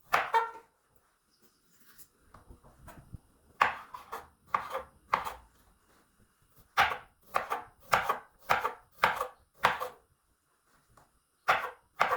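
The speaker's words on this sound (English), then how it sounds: "I'll be using my chef knife to thinly cut the potatoes." A chef's knife thinly slices potatoes on a board in a series of crisp, close chops, grouped in quick bursts with short pauses between them.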